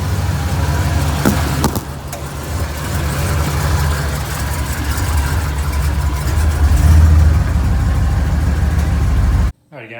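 A truck engine runs steadily at close range as the vehicle is pulled into a garage, a loud, continuous low rumble with a brief mechanical clatter near the start and a swell in the last seconds before cutting off abruptly.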